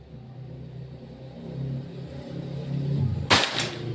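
A sharp, loud air rifle shot from a Pajero Gun Gen 6 cracks once near the end, over a low rumbling engine-like hum that swells gradually beforehand.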